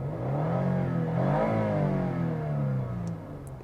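A Lexus IS250/IS350 engine revving up past 5,000 RPM, a close, loud rising whine that peaks and then eases back down, with no one speaking.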